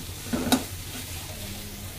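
Leafy greens being fried and stirred in a pan, a soft continuous sizzle with a couple of sharp utensil knocks against the pan early on, close and without talk.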